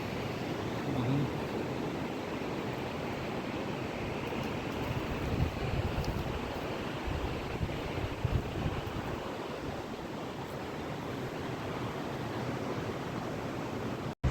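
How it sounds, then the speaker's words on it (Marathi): Sea surf beside Kelve Fort in Palghar rolls in as a continuous broad wash, loud and close, with wind buffeting the microphone throughout. "त्या बाजूला पाहिलं तर अथंग समुद्र आपणाला पाहायला भेटत आहे"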